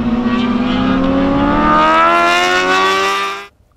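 A Honda CBR1000RR-R Fireblade SP motorcycle screams down a long straight at the Doha circuit, its engine note climbing steadily and loud through the revs before cutting off abruptly.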